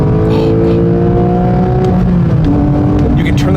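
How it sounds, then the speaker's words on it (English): A 2022 Porsche 911 GT3 Touring's engine blips and swells in pitch as it rev-matches on a downshift, loud and close inside the car over steady road and drivetrain roar. "It does have auto rev matching downshifts. That was all the car."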